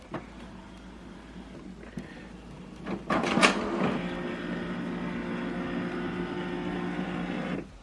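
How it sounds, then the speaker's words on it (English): An HP DeskJet 4220e printer powering on: a couple of soft clicks, then a louder mechanical clunk and whir of the carriage, settling into a steady motor hum, close and alone. "Now switch this printer on and off from this button."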